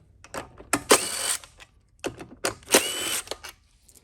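Bolts on a Honda GC190 engine's fuel tank loosened with a 10 mm ratchet, close bursts of rapid clicking in two separate runs with short quiet gaps between.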